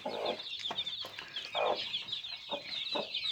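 A hen clucks in short, soft bursts while eleven newly hatched chicks cheep continuously in high-pitched chirps close by.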